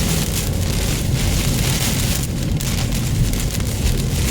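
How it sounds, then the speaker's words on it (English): Heavy rain pours steadily with sustained wind gusts in a severe storm, a constant broadband roar of wind and water, loud and unbroken throughout. "sustained wind gusts and heavy rain."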